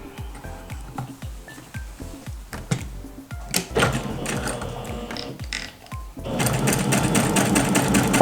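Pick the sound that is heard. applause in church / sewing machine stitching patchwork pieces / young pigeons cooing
sewing machine stitching patchwork pieces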